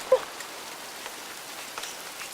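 Steady outdoor rain falls at night in the woods near a cabin, a soft even patter of drops hissing continuously at moderate distance, with one small brighter tap near the start and no talking.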